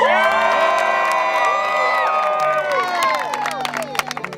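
Church ward members on a pioneer trek cheer loudly for Sister Brother Sessions, many overlapping whoops and shouts of adults and children up close, tapering into scattered claps and calls near the end.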